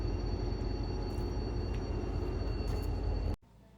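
A train running during a ride to Kildare Village, a continuous loud rumble and hum from inside the carriage with faint high tones, cutting abruptly to quiet near the end.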